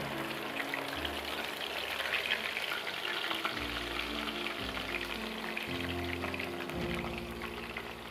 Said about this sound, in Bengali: এবার আদা রসুন বাটাটা, পেঁয়াজ বাটাটা তেলের মধ্যে দিয়ে দেবো।